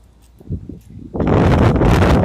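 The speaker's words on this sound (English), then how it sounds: "pretty windy" Faint rustling gives way to a sudden, loud rush of wind buffeting the microphone, roaring steadily to the end.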